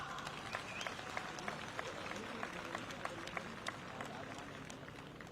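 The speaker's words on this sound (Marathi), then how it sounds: "त्यांच्या स्वागतासाठी सगळ्यात पहिल्यांदा जोरात टाळ्या वाजवा" Steady crowd applause fills a BJP rally in Mumbai as Deputy Chief Minister Devendra Fadnavis is welcomed, a dense wash of clapping with sharper individual claps punctuating it throughout.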